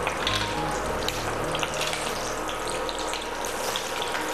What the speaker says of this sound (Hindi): और इनको अच्छी तरह से कुक होने दें ताकि जो ऑयल है उसमें ये साबुत मसालों का फ्लेवर समा जाए।